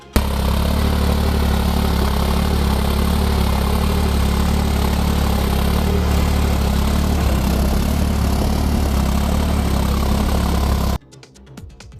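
A loud, steady tractor engine drones continuously at close range while ploughing a field, a heavy rumbling idle that cuts off abruptly near the end.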